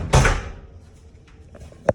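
A hotel room door in the Harrah's Las Vegas Valley Tower opens with a key card, a sharp loud latch clack and swing at the start, followed by quieter handling noises and a small click near the end.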